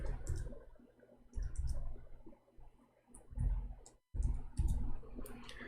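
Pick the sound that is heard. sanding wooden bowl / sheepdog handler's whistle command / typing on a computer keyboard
typing on a computer keyboard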